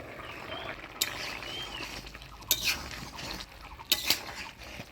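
A lid goes onto a pot of Gulsha fish curry with sharp metallic clinks, three distinct knocks spaced a second or so apart over quiet kitchen background.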